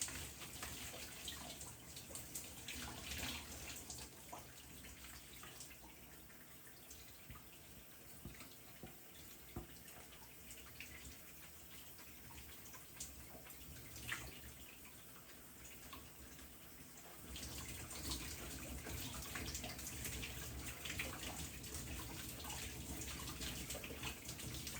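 Steady running water from a tap or shower rinsing shampoo out of hair during a wash, a dense continuous splashing hiss that grows slightly fuller toward the end, with no talking.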